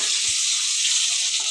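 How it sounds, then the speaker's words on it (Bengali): Eggplant frying in a pan of oil for a Kali Puja meal gives a steady, close hiss of sizzling that holds at an even level throughout, with no talking. "এখন এখানে বেগুন ভাজা হচ্ছে"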